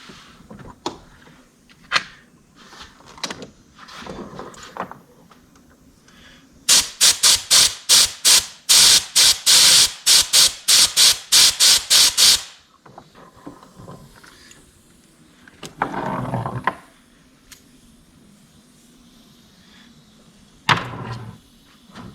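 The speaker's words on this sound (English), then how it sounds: "We'll blow compressed air in there and just kind of make sure it's dry." Compressed air blasts in a rapid burst of about a dozen short loud hisses into a 1963 Mercedes-Benz 220SE speedometer cable, with quieter clicks and handling noises before and after.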